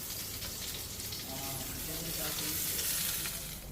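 Garlic-stuffed potatoes fry in oil in a kadai, giving a steady soft sizzle with faint stirring, fairly quiet and continuous.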